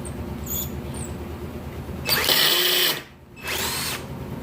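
A Harbor Freight Hercules drill driver bores through a workpiece in a loud, steady whine lasting about a second, briefly cuts out, then resumes for a shorter second burst, with a low background hum throughout.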